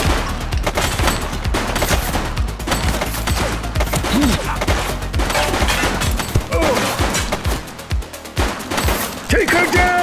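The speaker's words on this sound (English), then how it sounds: "She's shooting!" Gunfire in The Precinct police video game, a dense run of rapid shots and bursts crackling loudly for the whole stretch, with crashes and thuds mixed in and voices calling out over the action.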